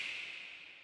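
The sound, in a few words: long snap sample from TS Mammoth pack on Splice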